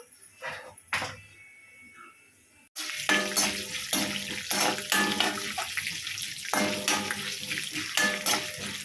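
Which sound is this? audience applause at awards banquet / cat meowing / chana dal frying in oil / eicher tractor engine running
chana dal frying in oil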